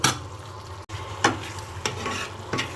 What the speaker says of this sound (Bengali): তেলের উপর উঠে যাবে তখন আমরা এটা নিহারির ভিতরে